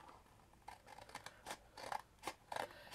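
Small scissors snip repeatedly at a miniature diorama part for a round library tower, several sharp close clicks and cuts at irregular intervals, quiet and alone.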